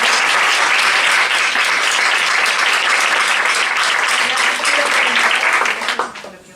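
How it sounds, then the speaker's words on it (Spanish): An audience applauds a speaker at a psychology and performing arts conference session. The clapping is dense and loud, with a faint murmur underneath, and it holds steady for about six seconds before fading out. "Un aplauso para Carlos."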